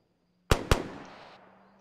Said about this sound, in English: They're shooting and scooting.